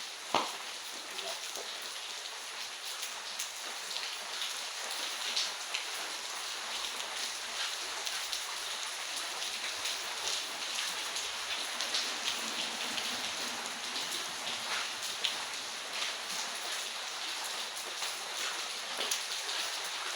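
Steady rain falls outdoors, a constant dense hiss of drops on surfaces at a moderate level, with no break across the whole stretch.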